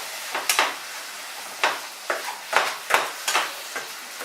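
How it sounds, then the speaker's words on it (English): Egg and mushroom being stirred in a hot pan for a Spanish omelette, a handful of short scraping sweeps at irregular intervals over a faint steady sizzle, close and fairly quiet, with no talking. "Got a little bit of a stir."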